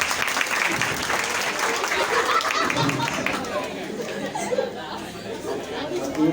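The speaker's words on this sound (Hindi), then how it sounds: "जोरदार तालियों के साथ स्वागत।" A crowd claps loudly to welcome a guest, steady applause mixed with lively chatter and voices that gradually thins toward the end.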